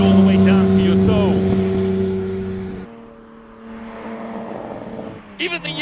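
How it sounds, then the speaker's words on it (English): An old-school 5.7-liter V8 idles at a classic car hillclimb in Cape Town, giving a steady, throbbing, tonal rumble that drops abruptly in level partway through, then builds back before a brief burst of other noise at the end. "You can listen to the V8 how it idles."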